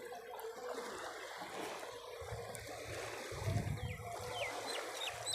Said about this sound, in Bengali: এই দেখুন কতটা ঢেউ হচ্ছে এই মুহূর্তে